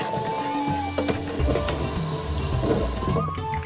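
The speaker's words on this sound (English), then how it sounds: "So why don't you give it a nice rinse to it. The cutting board as well." Tap water runs steadily into a kitchen sink while a sardine and a cutting board are rinsed, a continuous close splashing stream with small clatters, then the flow cuts off at the end.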